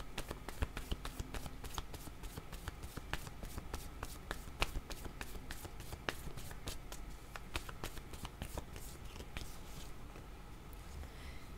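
Tarot cards are shuffled by hand in a quiet room, a rapid string of crisp riffling snaps and slides repeated for several seconds, close and soft, fading slightly toward the end.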